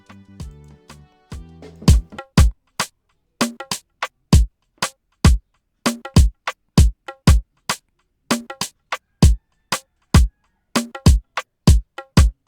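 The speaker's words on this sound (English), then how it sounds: "that's my drums guys, that's how my drums sound like" An afrobeat drum pattern programmed in FL Studio opens with a brief melodic intro. It then settles into punchy, dry kicks, snappy hits and sparse percussion in a syncopated groove with gaps of silence between the hits.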